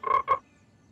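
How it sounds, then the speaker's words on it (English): Cartoon frog gives two quick, loud, close croaks in a row, then falls silent. "No, George, the frog is close"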